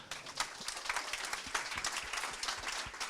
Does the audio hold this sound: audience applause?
yes